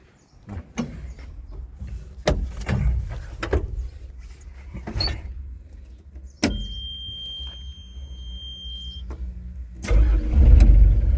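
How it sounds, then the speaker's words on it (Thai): A Cat 306 excavator's diesel engine cranks with a few sputtering turns, catches, and settles into a low rumbling idle that swells louder at the end. "เดี๋ยวมาฟังเสียงเครื่องยนต์กันครับตอนสตาร์ทเครื่อง"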